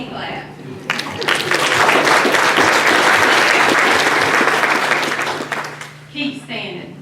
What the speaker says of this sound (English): Now give yourself a hand clap